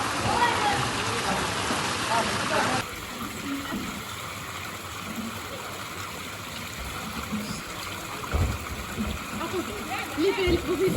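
Water from a mountain spring in the Jbala hills runs and splashes steadily up close, with a voice talking over it.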